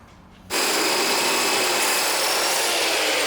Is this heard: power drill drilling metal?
yes